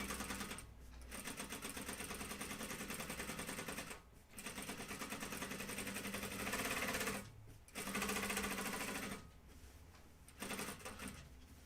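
Double-needle sewing machine stitching curved seams of a flight suit, running in long, fast, steady bursts with brief pauses between runs, close and loud.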